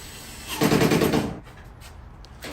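A clothes dryer running rough gives a loud, rattling, rapid knocking burst lasting under a second over a steady hum, then drops back to a quieter whir.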